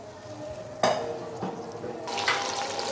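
Spices for kofta curry fry and sizzle in a pan, with a sharp hiss kicking in as they hit the oil and scraping stirring strokes following, close and clear, no voices.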